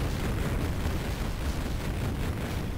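Explosions in the video game Duke Mod, WGRealms Demon Throne, make a dense, continuous rumbling roar of overlapping blasts that is loud and sustained, with no talking.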